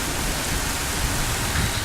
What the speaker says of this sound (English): Oh, it's raining, so you know it's about to get real.